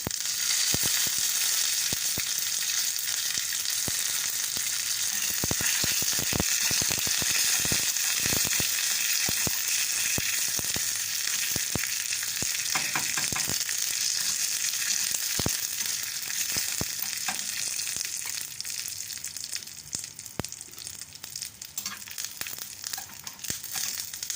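Dry red chilies and curry leaves frying in hot oil for a spinach curry with mustard seeds, a steady bright sizzle with crackles and pops throughout, close and loud with no talking.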